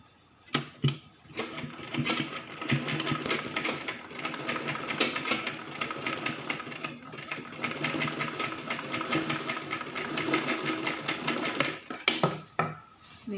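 A sewing machine runs steadily, stitching two joined pieces of cloth for an umbrella skirt; a close, continuous mechanical whir with a brief start and stop at each end and no talking.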